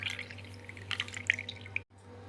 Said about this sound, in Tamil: தண்ணி எதுவுமே ஆட் பண்ணாமல் வெறும் பீட்ரூட்டை மட்டும் புழிஞ்சு எடுத்துக்கிறேன்.